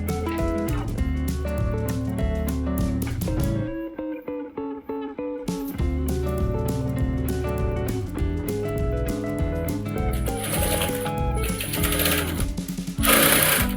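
A sewing machine stitches a designer sleeve with a steady, fast mechanical whir and rapid needle rhythm, close and continuous. There is a brief drop to near-quiet around the four-second mark before the running resumes.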